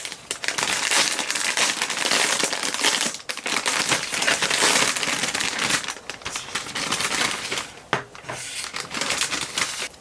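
Plastic and paper packaging of an acrylic paint art toy kit being torn open and handled close up, a continuous loud crinkling and crackling with sharp rips and brief pauses, no talk.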